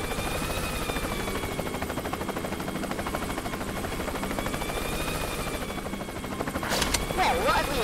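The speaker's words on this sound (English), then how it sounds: "That damn helicopter's got a lot of use." A helicopter in the video game Worms W.M.D., a continuous rhythmic buzzing rotor hum held at moderate volume, joined near the end by sharper bursts of game effects.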